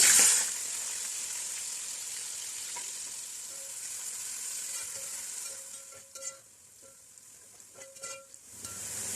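Sliced medium onions frying in hot oil for Rampuri mutton biryani: a steady, bright sizzle that goes on without a break, with some light stirring clatter near the end and no voices.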